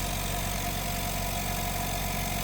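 A Black&Decker 6 litre air compressor runs continuously nearby, a steady motor drone with an even, unchanging hum and no pauses.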